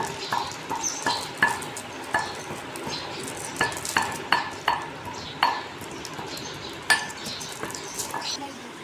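A spoon clinks and scrapes in a pan as churma is mixed with ground cardamom and nutmeg for ladoos, repeated close metallic taps in an uneven rhythm with faint background voices.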